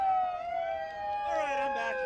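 An electronic police or emergency siren wails through a steady rising-and-falling tone, moderately loud and sounding fairly close, with no voices heard over it.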